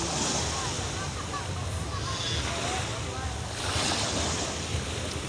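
Continuous roar of waves and surf at Panglao beach, loud and close, with wind buffeting the microphone and voices mixed in.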